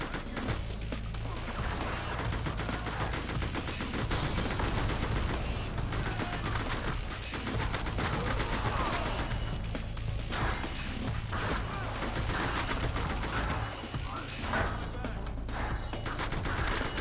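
Shotgun fire in Spy Hunter: Nowhere to Run sits inside a loud, busy mix of repeated blasts, crashes and mechanical clatter that runs without a break, thick enough that individual shots are hard to pick apart.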